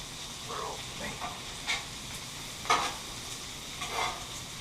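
Butter sizzles on a Blackstone griddle, a soft, steady hiss broken by a few brief scraping strokes of a spatula stirring it across the hot surface.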